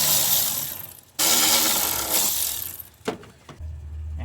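Ratchet wrench removing a 10mm battery nut on a Honda Accord, bursts of rapid clicking close by, followed by a few sharp metallic knocks and a low hum.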